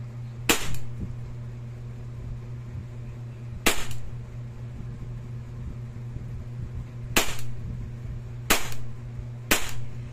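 Shots from a WE Glock 18 gas airsoft pistol, heard as five sharp, loud cracks spread unevenly over about ten seconds, single shots and a close pair near the end, over a steady low hum.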